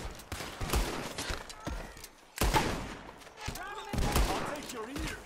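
Gunfire in the video game Red Dead Redemption II during a shootout with enemies up in the trees: repeated loud, close shots and bursts mixed with game voices shouting over the action.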